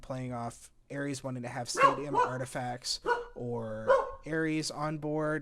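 Several dogs bark and yip repeatedly, loud and close, in short sharp bursts indoors, overlapping with someone talking steadily through a card game.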